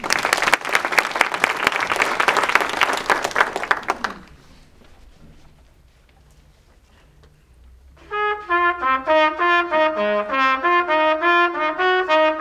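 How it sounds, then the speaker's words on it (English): An audience claps at a trumpet recital of West Side Story songs, a dense burst of applause that fades out before a bright trumpet phrase begins. "Let's hear it for Lyndon"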